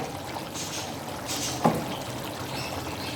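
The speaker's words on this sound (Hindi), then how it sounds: "इसको थोड़ा सा हल्का सा पानी डालकर" A little water is poured into a pot of chicken achar gosht while it cooks, making a soft, steady trickle and splash close by that ends in a small clink partway through, with no voices.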